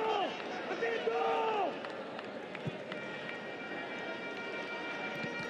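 Steady murmur of a football stadium crowd at a Jamaica vs El Salvador match, a broad continuous wash of distant voices with a few faint tonal calls, with a commentator talking over the start.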